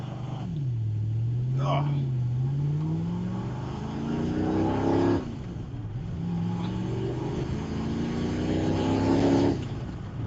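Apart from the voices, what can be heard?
Ford GT40 race car driving off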